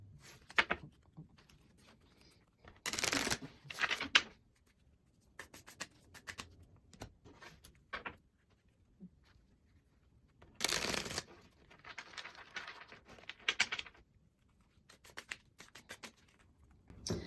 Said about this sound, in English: let me get these shuffled up so we can see what the Sagittarian energy has to provide